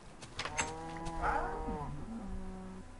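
A Minecraft cow gives one drawn-out, low moo lasting around two seconds, fairly quiet and alone, with a faint buzzing underneath.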